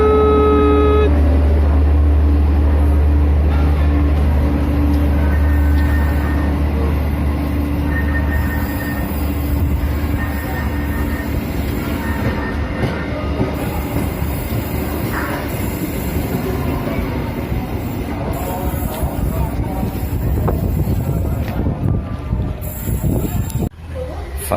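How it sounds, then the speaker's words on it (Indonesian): KRD diesel commuter train in Indonesia passing close by, a loud sustained rumble of engine and wheels with rattling carriages and faint squealing that gradually fades. "Selamat jalan kereta api KRD Indonesia."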